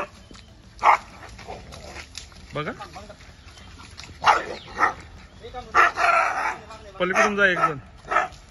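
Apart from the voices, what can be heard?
rabid dog barking and whimpering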